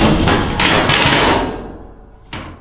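A Speed Queen belt-drive washer roars loudly through its final spin, then the noise drops away and a single sharp thud lands as the lid comes off.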